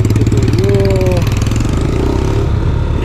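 A motorcycle modified into a cargo motorbike runs loud and close on a road in Cianjur, its engine chugging in a steady rapid pulse with a brief whining rise in pitch.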